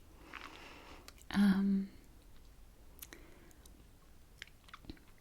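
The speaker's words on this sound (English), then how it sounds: "Really fresh crunch" A fresh, crunchy biscuit is bitten and chewed up close, one loud crisp crunch followed by quieter chewing clicks in a hushed setting.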